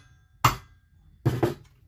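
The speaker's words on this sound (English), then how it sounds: "we're just going to pry under this and whack it with a hammer" A hammer strikes a pried part on a McCulloch 1-50 chainsaw twice, two sharp, close metallic whacks about a second apart in an otherwise quiet space.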